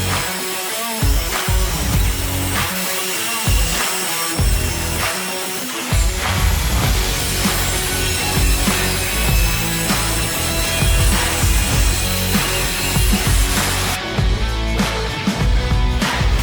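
A heavy-duty COOFIX circular saw made for wood, plywood and PVC cuts with a continuous loud, dense whirring and grinding that stays steady throughout.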